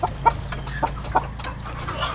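Chickens on a Philippine family's backyard flock give a few short, soft clucks spread across a couple of seconds, set against a steady low hum.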